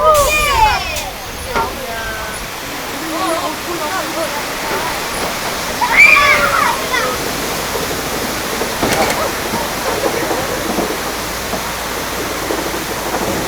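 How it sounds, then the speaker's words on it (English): A broad, steady rush of water pours continuously on a Universal Studios theme park ride, with faint crowd murmur and a few brief splashes or clatters mixed in. "be prepared because there could be even more water"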